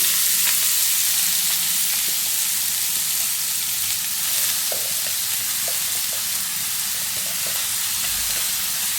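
Chopped onion pieces fry in a pan with a steady, loud sizzle and hiss, joined by faint clinks and scrapes of stirring close by, and no talk.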